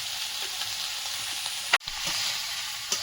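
Ash gourd with a fish head sizzles and fries in a pan, a steady hiss with small crackles and one sharp knock of the spoon as it is stirred.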